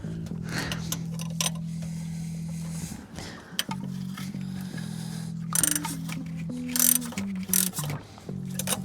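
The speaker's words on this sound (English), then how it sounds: "And then I'll use a socket on the other one." A socket wrench ratchets while a power steering pump is installed on a 1998 Chevy C1500 V6, with quick clicking runs in short bursts over a steady low hum.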